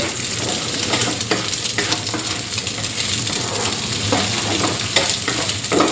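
Eggs fry in a generous amount of oil in a pan for stir-fried salted radish. A continuous close sizzle runs throughout, with light scraping and clinks from stirring and no talking.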